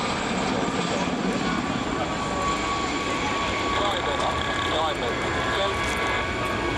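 A Gazelle helicopter at an air show display holds a sustained high-pitched engine whine over a rumbling rotor roar, loud and steady, while a commentator talks over it.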